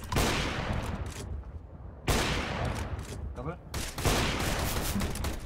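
Gunfire in the video game Counter-Strike: Global Offensive, loud bursts of rapid shots in three clusters separated by short gaps, with no voice heard over them.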